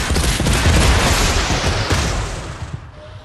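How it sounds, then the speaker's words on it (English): Dense gunfire in a Fortnite match, a loud rapid barrage of overlapping shots that rattles on close by and then thins out toward the end, with no voices. "He's getting shot at from this guy right here"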